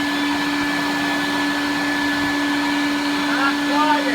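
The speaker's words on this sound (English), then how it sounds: "Not quiet, very loud. Sounds like a shop vac." A Colorado Bee Vac bee vacuum runs loudly and steadily with a strong whining motor tone, sounding much like a shop vac, its pitch wavering slightly near the end.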